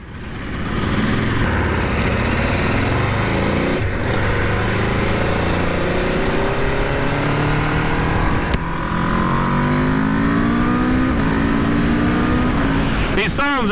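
A 2021 Aprilia RSV4 1100 Factory sport motorcycle engine revs hard and continuously, its pitch sweeping up and down in repeated rising climbs, loud and close throughout.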